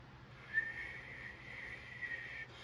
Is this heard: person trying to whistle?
yes